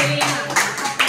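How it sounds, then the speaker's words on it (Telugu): A congregation at a church service claps hands in a brief burst of several sharp claps, with a resonant tone ringing under it. "చప్పట్లు కొట్టి"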